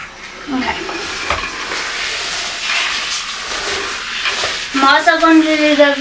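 A steam mop cleaning a floor hisses in soft, breathy bursts at close range, and a voice talks over it near the end.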